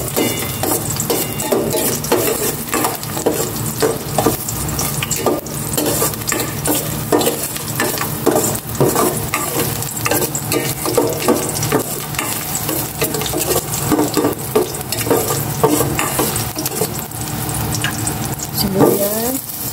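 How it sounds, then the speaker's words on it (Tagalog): Garlic sautéing in a pan of cooking oil, a steady loud sizzle and crackle running throughout with occasional stirring scrapes and clinks of a utensil against the pan. "Igisa ko na itong bawang."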